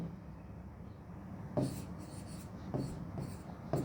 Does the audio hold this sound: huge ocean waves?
no